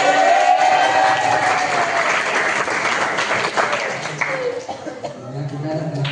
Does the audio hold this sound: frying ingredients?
no